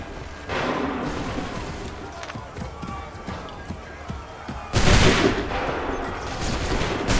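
Musket volleys ring out on an Assassin's Creed III battlefield set in the American Revolution, with sharp reports scattered over ambient battle noise and a louder burst near the end, while commanders shout orders over the fire.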